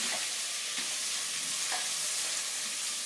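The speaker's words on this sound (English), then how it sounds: "And then spoon, and we're just going to mix it up." Ingredients stirred with a spoon in a single pot, heard as a dense, even sizzle with faint scraping knocks at intervals, close and continuous, with no voices.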